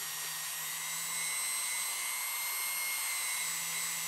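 A polishing wheel buffs a soldered silver ring with a steady, even whine and hiss that holds constant throughout, with no voices.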